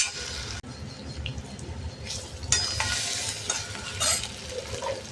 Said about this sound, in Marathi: आलं आणि कोथिंबीर भरपूर घालून वाटलेला, आणि बारीक गॅसवर परतून घेऊया।